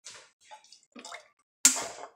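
Water is poured into a pot of tomato sauce for homemade pizza, a short splashing gush near the end that follows a few soft, quieter sounds.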